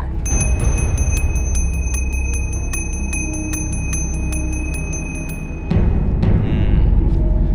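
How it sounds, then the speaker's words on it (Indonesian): A ritual procession bell rings in quick, steady repeated strikes, bright and close, over a low rumbling background, then stops abruptly as noise swells. "Lonceng prosesi ritual."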